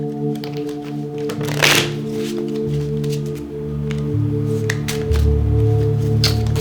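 Tarot cards being shuffled by hand, a steady run of soft riffling and flicking bursts with a brief louder swell, close and alone over a faint low hum.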